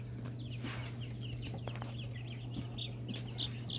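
Rare blue Americana chickens cluck and chirp in short, scattered calls at a breeding farm in Norco, moderately close over a steady low hum, with no talking.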